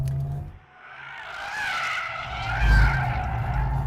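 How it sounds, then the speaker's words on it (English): A Maserati GranTurismo Folgore, the 750bhp all-electric GT, drifts in drift mode: a loud, sustained tire squeal over a low road rumble, swelling near the end, with no voices. "the torque vectoring seems to have figured out that I want to slide a bit"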